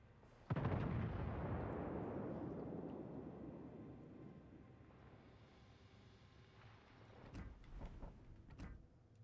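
Naval guns boom in World of Warships: Legends, a sharp loud blast opening a long rumbling roar that slowly fades, with further scattered cannon reports toward the end; no talking.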